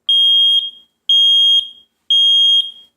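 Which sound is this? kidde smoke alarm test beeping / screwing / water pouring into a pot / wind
kidde smoke alarm test beeping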